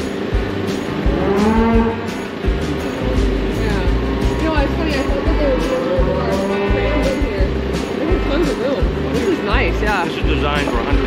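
Cattle mooing repeatedly in a barn built for about 150 head, overlapping lowing calls against a steady background, with people talking throughout.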